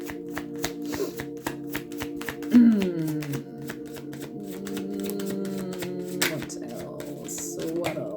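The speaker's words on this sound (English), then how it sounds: "Let's just shuffle again, see if there's anything else that would like to come." Tarot cards being shuffled by hand, a series of crisp taps and riffles spread across the clip, heard over a sustained background hum and tones.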